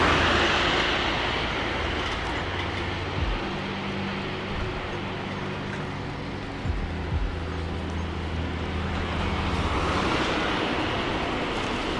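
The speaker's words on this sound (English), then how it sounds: "Cement mixer." A heavy cement mixer truck rumbles past on a road, its low engine drone rising and fading over steady traffic and wind noise, with no talking.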